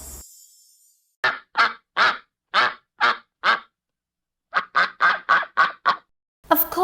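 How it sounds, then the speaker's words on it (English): A duck quacks loudly and nearby in two runs of about six harsh, evenly spaced calls, separated by a brief pause. "Of course, it's a duck."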